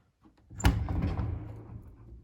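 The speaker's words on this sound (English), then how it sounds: "what do we have behind the closed pocket door?" A pocket door in a tiny cabin-style home slides open into the bathroom, a soft rumbling glide with a brief knock at the start, fading out over about two seconds.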